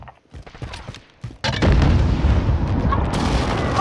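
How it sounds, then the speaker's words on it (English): Precision airstrike explosions in Call of Duty Modern Warfare: a loud, sustained blast with rumbling debris starts after a short stretch of quiet scattered noise and keeps roaring to the end. "Be advised, friendly precision airstrike inbound."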